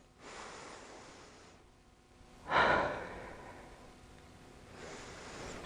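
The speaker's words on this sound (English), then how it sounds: "And just take a few deep breaths." A few slow, deep yoga breaths during a relaxation practice for anxiety, each long airy inhale or exhale rising and fading, one fuller breath in the middle, heard close with no talking.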